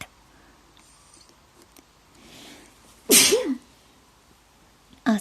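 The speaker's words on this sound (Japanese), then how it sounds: "くしゃみが。" A single loud, sharp human sneeze bursts out close by after a stretch of near silence, followed by a brief thump.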